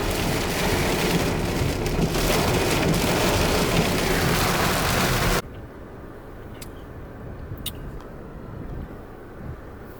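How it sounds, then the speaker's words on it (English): Heavy rain pattering densely on a car while driving in Miami, then abruptly dropping to a softer, thinner patter with a few scattered sharp drips. "Now that it's raining"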